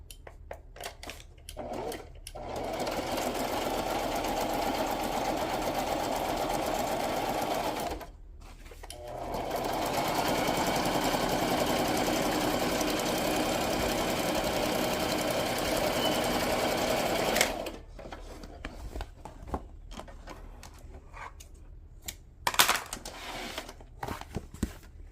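A sewing machine stitches the base of a flip-flop in two long loud runs broken by a short pause, followed by quieter handling clicks and rustles.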